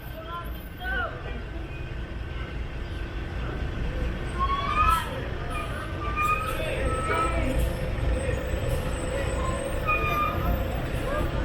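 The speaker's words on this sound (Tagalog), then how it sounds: "So there's the second bus." A ferry-bound bus for Bantayan Island at the Cebu bus terminal rumbles steadily amid constant traffic noise, with squealing brakes and voices in the background.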